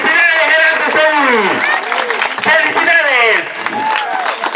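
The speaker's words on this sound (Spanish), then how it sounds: "¡Vamos, vamos a esas palmas, vamos a esas palmas!" Spectators at a festival foot race clap for a runner crossing the finish line, the steady applause nearly buried under a loud voice shouting excitedly right up close.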